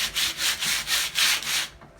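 Hand sanding of a wooden mirror frame being upcycled, done without a power sander: about seven rhythmic back-and-forth rubbing strokes, close and fairly soft, with no voices.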